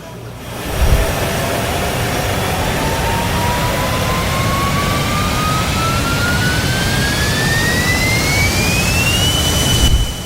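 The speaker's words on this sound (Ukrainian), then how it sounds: "Реактивний двигун." A loud jet engine roars continuously, its whine rising steadily in pitch as it spools up over about ten seconds.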